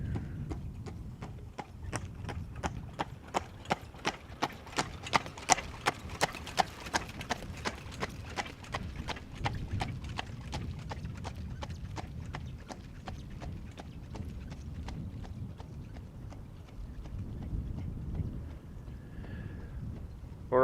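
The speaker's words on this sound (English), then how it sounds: "Now you might also pick up the sound of horse and carriage. They're approaching from behind me." A horse and carriage approaches outdoors near Amsterdam Schiphol Airport, its hooves clip-clopping in a steady, even rhythm. The hoofbeats grow louder and crisper, then soften, over light wind noise.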